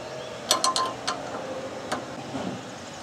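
A 5 mm Allen wrench working a sway bar end link bolt on an MR2 Spyder suspension, giving a few sharp metallic clicks and ratcheting clinks clustered early, then a couple of isolated ticks, close up with no talk.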